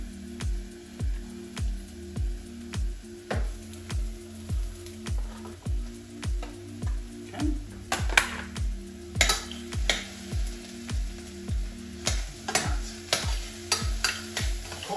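Mushrooms fry in a pan for moussaka, stirred in a steady rhythmic pattern of regular scraping strokes, roughly two per second, over a soft continuous sizzle with a few sharper utensil clicks later on.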